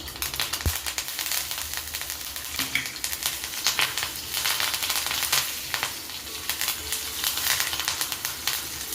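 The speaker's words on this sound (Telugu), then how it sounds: "స్లో ఫ్లేమ్ పెట్టుకుని అలాగే ఇందులో కరివేపాకు రెమ్మలు వేసుకున్నాం" Curry leaf sprigs and dried red chillies sizzle steadily in hot tempering oil over a slow flame, a close, continuous crackling fry with scattered sharper pops and no voices.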